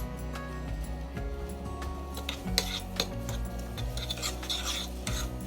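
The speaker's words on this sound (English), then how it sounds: "I'm gonna give this a little bit of a stir." A spoon stirring and scraping around a pan of melted shortening and butter for a pineapple upside-down cake, with soft rasping strokes and light clinks over a steady low background hum.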